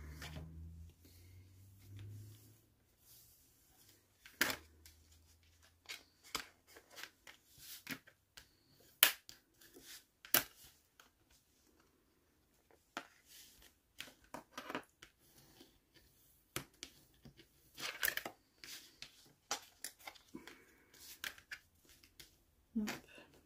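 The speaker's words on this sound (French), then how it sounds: "Maintenant, on va venir plier. Hop, on marque nos plis." Paper being folded and creased by hand for scrapbook boxes, sharp crisp snaps and rustles scattered irregularly across a quiet background, with brief talk at the start.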